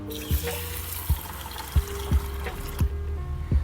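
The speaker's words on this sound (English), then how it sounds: "Now, when you mix in water, okay, just see what happens." Water mixed into about half a cup (100 g) of moong dal in a kitchen, giving a steady wet swishing and trickling with several soft thuds spaced through the mix, close and alone with no talk.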